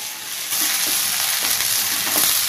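Ladies finger (okra) fries in a nonstick pan with a loud, even sizzle and a constant scraping rustle of stirring, close by and without any voice.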